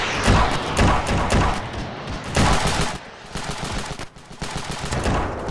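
Heavy weapons fire around a Javelin launcher in the video game Ravenfield, dense loud booming blasts and rattling bursts in continuous overlapping waves with brief dips between volleys.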